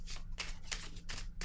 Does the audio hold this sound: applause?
no